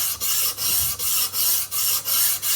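A knife blade is stroked flat up and down on a diamond sharpening stone to take off a burr, giving a steady, close rasping scrape in even repeated strokes with brief pauses between them.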